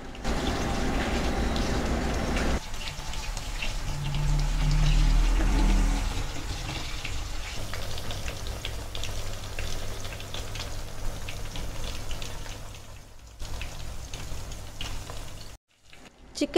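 Chicken pieces for chicken kondattam sizzle steadily in a hot pan with oil, a continuous frying hiss with a louder burst early on, then calmer crackling as the pieces are turned.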